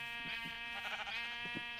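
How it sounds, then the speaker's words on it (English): Sheep in the Minecraft video game bleat a few times in quick succession, a nasal, tonal game sound at moderate level with steady background underneath. "We found some sheep. Let's kill them."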